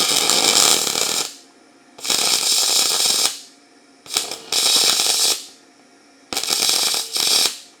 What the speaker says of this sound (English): We're going to just do tack welds.